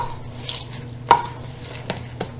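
Raw sliced almonds being stirred into a vegan pumpkin cookie mixture, giving a few soft, brief scraping clicks spread through a short, quiet stretch.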